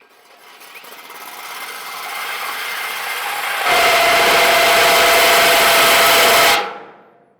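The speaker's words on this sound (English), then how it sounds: "Now I'm gonna take this piece off and drill that hole." A power drill whirs loudly and steadily for about three seconds, boring into wood, then winds down and stops after a quieter mechanical hum.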